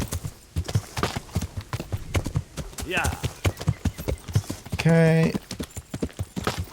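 Horse hooves clip-clop in a steady rhythm while riding in Kingdom Come: Deliverance, with a dog barking nearby and a whinny partway through; someone talks over the hoofbeats.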